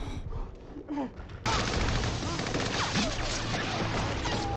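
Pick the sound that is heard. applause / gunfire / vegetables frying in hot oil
gunfire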